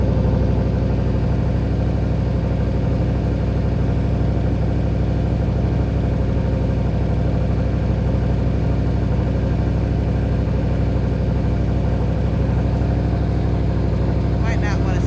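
A third-generation Chevrolet Camaro engine idles a little high, a loud, steady low rumble that holds constant throughout, with a brief higher rattle near the end.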